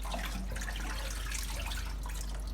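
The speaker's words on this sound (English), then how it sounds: "throw away this water" Soaking water from washed leafy vegetables being poured away into a sink, a steady splashing gush that holds for the whole stretch, close and fairly even, with no voices.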